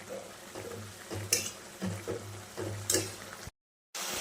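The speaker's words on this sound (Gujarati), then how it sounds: "મસાલો નાખ્યા પછી મેગી હલાવીને જસ્ટ 2 મિનિટ કૂક કરીને 2 મિનિટ કૂક કરી લેવી." Maggi noodles with masala being stirred in a pan, with a steady soft scrape and gentle sizzle and a few sharper clinks of the spoon against the pan, then a brief cut to silence before the sound resumes.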